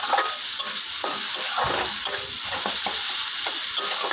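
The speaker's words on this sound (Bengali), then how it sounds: "লঙ্কার গুঁড়ো দিয়ে ভালো করে মশলাটাকে কষাতে হবে।" A spice paste with chili powder and tomatoes fries hard in a pan for a vegetarian dhokar dalna, with a loud, continuous sizzle and frequent stirring scrapes throughout.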